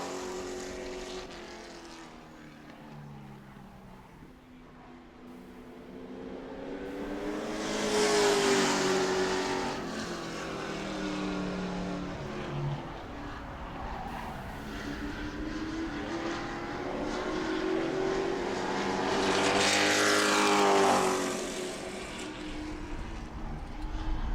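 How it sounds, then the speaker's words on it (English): Pro Truck race trucks lap the oval at New Smyrna during a practice and qualifying session, engines swelling loudly as each pack roars past and fading between passes, a steady mechanical drone throughout. "Last couple laps here for the Pro Truck practice session / qualifying session"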